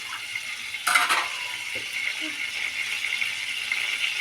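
Urad dal and chana dal added to hot oil with mustard seeds for a tempering. A soft, steady sizzle and crackle runs throughout, with a brief clatter of a spoon or pan near the start.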